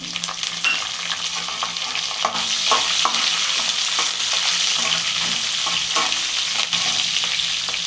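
Chana dal, mustard seeds and green chilies fry in hot oil, a loud, continuous sizzle with crackling pops and occasional stirring scrapes, heard close up.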